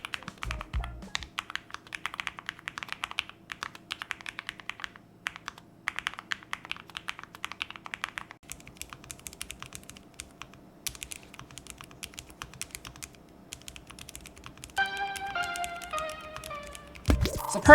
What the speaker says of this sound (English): That's the sound of a low-profile keyboard